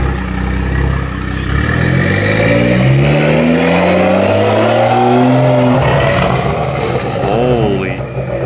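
A Toyota Supra with a catless downpipe revs and accelerates away, its raspy exhaust rising through gears, loud and close at first and then receding, with people talking nearby underneath.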